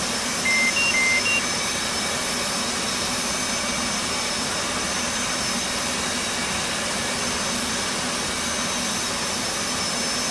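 An F/A-18 jet engine in the DCS flight simulator runs at a steady idle, a loud continuous whine and roar with a few brief cockpit beeps early on, and no voices.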